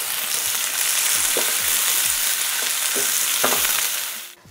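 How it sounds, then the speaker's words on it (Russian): Tomatoes fry in a hot pan with a dense, loud sizzle and spatter, punctuated by several stirring scrapes, before the sound drops away at the end. "Добавляем сюда помидоры и обжариваем 2-3 минуты."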